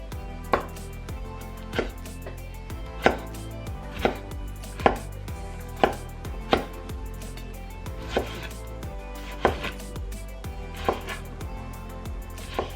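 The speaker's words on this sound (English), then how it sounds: "Cut tomato into dices." A knife dices tomato on a cutting board, each chop landing as a crisp, close knock in a slow, uneven rhythm of about a dozen cuts over a steady background hum.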